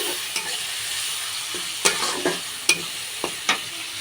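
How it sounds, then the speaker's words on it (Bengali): Onions fry in hot oil until browned, a soft steady sizzle punctuated by a few sharp scraping stirs of a spatula against the pan. "পেঁয়াজগুলো লাল লাল করে ভেজে নিয়েছি"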